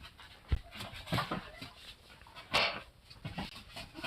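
A husky dog in a video game pants and whimpers softly, with short breathy bursts and a few sharper puffs at an uneven pace, fairly quiet and close, with no talk over it.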